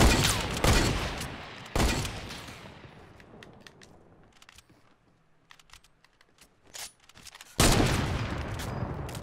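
Sniper rifle shots in Fortnite crack out as a few loud, sharp reports separated by quieter gaps filled with faint distant pops and clicks.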